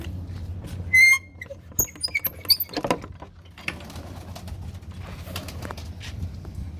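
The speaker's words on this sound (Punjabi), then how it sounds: "ਕਬੂਤਰ ਇਧਰ 4-5 ਹੀ ਆ" Soft cooing and fluttering from four or five pigeons and their young, with scattered chirps and light scratchy movements over a low steady hum.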